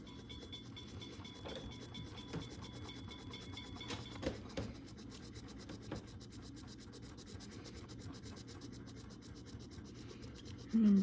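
A Tuscan white colored pencil burnishes over layered color in small, firm circles, a soft, steady rubbing and scratching close up with faint rhythmic strokes throughout.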